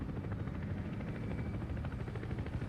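Steady rotor chop from a helicopter in the tank-combat game War Thunder, a continuous low thrum with a faint beat, moderately quiet and unbroken by talk.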